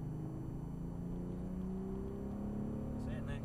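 A Bentley accelerating around the Yas Marina racetrack, its engine note rising steadily as it pulls, heard from a distance inside the cabin with a low steady drone and people talking over it.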